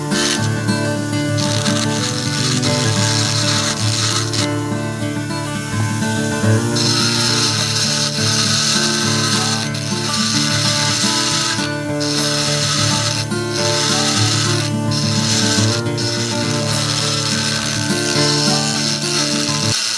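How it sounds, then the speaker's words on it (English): A Dremel rotary tool with a spiral bit grinds and rasps steadily against PVC pipe while candle tops are shaped into uneven rounded grooves, a continuous close, loud whirring scrape with no voices. "we're taking this spiral bit on our Dremel and we're going to go ahead and shape the tops a little bit more"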